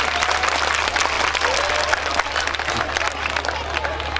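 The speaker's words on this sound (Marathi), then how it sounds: "एकदा जोरदार टाळ्या झाल्या पाहिजे" Steady, loud audience applause fills a live Marathi village comedy stage show, dense clapping sustained throughout with crowd noise underneath.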